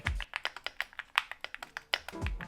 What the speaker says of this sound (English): deliver a satisfying typing sound